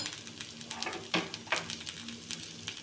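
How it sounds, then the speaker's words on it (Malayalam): Eggplant and capsicum sauté in a pan, giving a soft, steady sizzle broken by a few sharp clicks and scrapes as a spoon stirs the vegetables, close and fairly quiet. "ഇനി ഒന്ന് നന്നായി ഇങ്ങനെ വഴറ്റുക"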